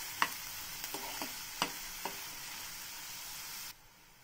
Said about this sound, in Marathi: कांदा आपला छान लाल असा भाजलेला आहे